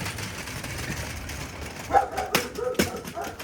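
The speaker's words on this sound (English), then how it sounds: "and of course Simba next door is barking like an asshole because that's all he knows how to do" A dog barks a few times next door in the distance, sharp isolated yelps over low outdoor rumble and faint background noise.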